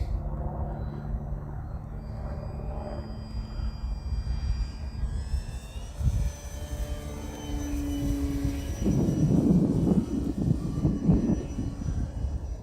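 The electric motor of an HK Durafly Tundra V2 radio-controlled airplane hums and drones overhead as the model rolls in flight. The whine shifts in pitch as the plane passes, over a low rumble of wind, with no one talking.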